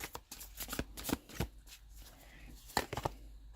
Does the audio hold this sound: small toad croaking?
no